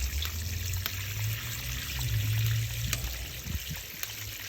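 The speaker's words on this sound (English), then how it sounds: "Need to fill it with water." Water pours and trickles steadily into the water pan of a bullet smoker, a close, continuous splashing stream with faint clinks.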